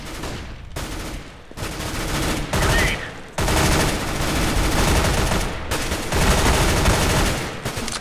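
AK rifle gunfire in the CS:GO video game rattles in dense automatic bursts broken by brief gaps, loud and close, with overlapping shots filling the whole stretch.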